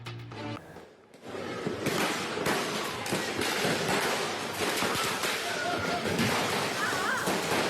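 Rapid, crackling bursts of firecrackers popping in quick succession in a street in Makassar, Indonesia, loud and continuous after a brief voice at the start.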